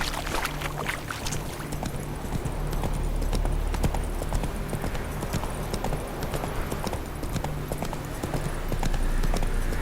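In The Witcher 3 video game, a horse gallops with a steady, dense clip-clop of hooves. The hoofbeats run continuously and loudly under in-game ambience, with no voices.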